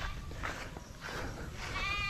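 Goats bleat on an Australian-run farm in the Philippines, their calls rising a few times over a steady outdoor hiss, close enough to be clear but not loud.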